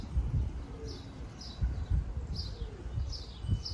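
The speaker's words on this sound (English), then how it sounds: "And a couple of doves." Doves coo softly at a pigeon loft, low repeated rolling calls near and far among faint chirps and the light flutter and shuffle of birds, with no talking.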